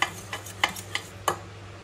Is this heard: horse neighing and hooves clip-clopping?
no